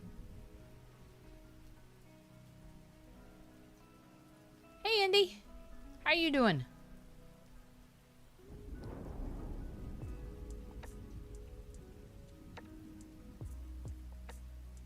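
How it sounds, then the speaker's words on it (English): Rain and thunderstorm ambience in the video game SpiritCity: Lofi Sessions, a steady soft patter with a low rumbling swell of thunder midway, under a voice talking and two short synthetic chimes. "thunderstorms put me to sleep and keep me asleep"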